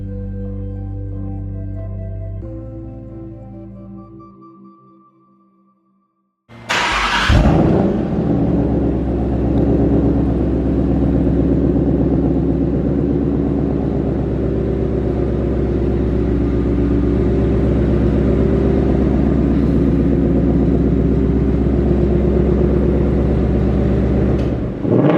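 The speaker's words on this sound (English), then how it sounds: "We're dropping her down. You're gonna hear her fire up. We'll do a couple flybys" A modified car engine fires up, cutting off earlier sound, and then holds a loud, steady, deep rumbling drone close to the microphone for the rest of the clip.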